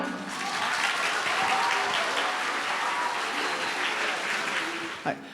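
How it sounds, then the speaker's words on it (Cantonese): A school variety-show audience breaks into sustained, dense applause to welcome the fancy rope-skipping team, the clapping holding steady before tapering off near the end with a brief sharp knock. "而家就等我哋用最熱烈嘅掌聲請出花式跳繩隊"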